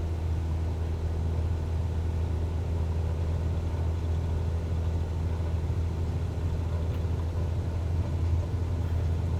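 Steady, continuous aircraft engine roar at takeoff power in Microsoft Flight Simulator 2020, a dense low rumble holding even and loud throughout with no speech over it.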